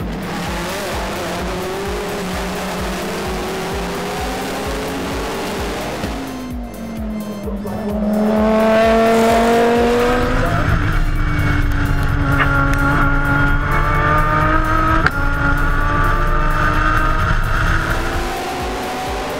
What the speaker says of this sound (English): Start of the Australian GT Championship, Tim Slade's going to jump in the number 63 car